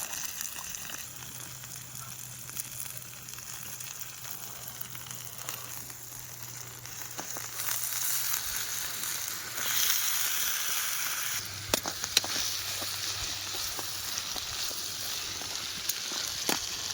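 Chicken frying in a pot over a forest campfire at night, a steady close sizzle running continuously with occasional stirring clinks and a faint low hum beneath.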